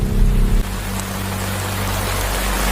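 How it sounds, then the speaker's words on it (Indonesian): Heavy rain pours down in a dense, steady hiss with a low droning hum underneath, loud and continuous throughout with no voices. "seketika turun hujan dengan derasnya"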